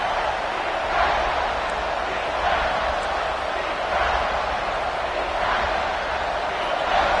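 A stadium crowd at a college football game between Penn State and UCLA roars in a steady, dense wash of cheering that swells slightly in waves, with a commentator's voice faintly underneath.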